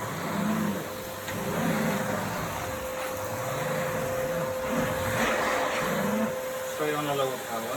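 Dirt Devil handheld vacuum sucks up dust in a steady, close whine with a faint continuous tone, while a person talks over it throughout.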